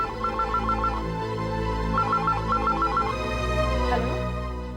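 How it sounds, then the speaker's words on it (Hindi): A phone ringtone plays a repeating electronic melody in two bursts, fairly loud and close, over a steady background hum. "शायद दीदी का फोन है।"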